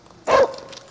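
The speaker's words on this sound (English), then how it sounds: "Oh, that's my dog." A dog gives a single sharp, loud bark up close, followed by quiet and the start of another yip at the very end.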